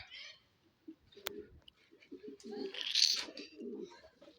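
Pigeons in a loft coo and flutter close by, soft throaty calls and a burst of wing noise, with quiet shuffling in between.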